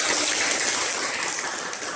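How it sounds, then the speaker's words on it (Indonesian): A group of people claps hands together in a dense, continuous burst that sounds close and fairly loud, with no pause across two seconds. "Ya, tepuk tangan."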